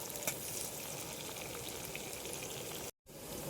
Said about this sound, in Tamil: தக்காளி சேர்த்தாமல் இதை நல்லா பொன்னிறம் ஆகிற வரைக்கும் நல்லா வதக்கிக்கலாம்